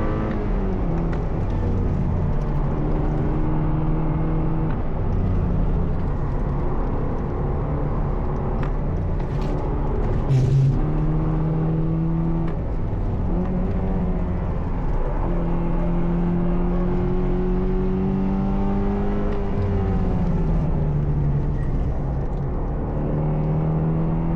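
A modified Porsche 968 driven hard around the Nürburgring, its engine loud and close inside the car, pitch climbing under acceleration and dropping on braking and shifts over a continuous road roar.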